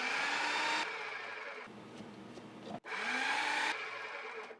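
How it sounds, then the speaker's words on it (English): A blender or food processor whirs loudly while blending basil, cilantro, garlic and almond slices for pesto, running in two steady bursts with a quieter pause between them. "Get your food processor or blender, basil, cilantro, garlic, almond slices,"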